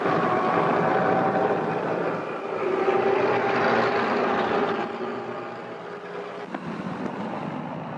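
Engines of a Lufthansa Junkers airliner from the early era of passenger air travel give a steady droning roar that fades slightly and stays constant, with no voices.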